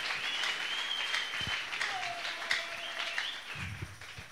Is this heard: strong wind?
no